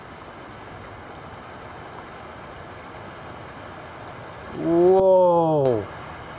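Heavy rain pours steadily in a downpour during a line of strong storms with wind, a constant hiss throughout, and near the end a voice briefly exclaims loudly over it.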